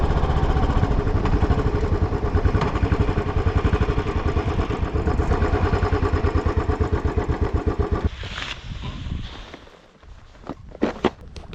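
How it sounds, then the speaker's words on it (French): Royal Enfield motorcycle engine thumping steadily while riding, loud and close with a pulsing rhythm, then fading toward a quieter idle with a few sharp clicks near the end. "je vous reprends sur la moto"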